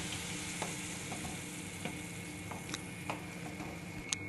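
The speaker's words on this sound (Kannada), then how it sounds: "ಈಗ ಸ್ವಲ್ಪ ತುಪ್ಪ ಹಾಕ್ಕೊಂಡು ಒಂದಿಷ್ಟು ದ್ರಾಕ್ಷಿನ ಫ್ರೈ ಮಾಡ್ಕೊಳ್ತಾ ಇದ್ದೀನಿ" Raisins fry in ghee with a soft, steady sizzle, broken by occasional light clicks of stirring against the pan.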